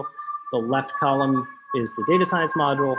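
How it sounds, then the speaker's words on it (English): Emergency sirens carry on outside as steady wailing tones beneath a man lecturing on a data science panel, staying level and moderately faint while his speech dominates. "Sorry for the sirens."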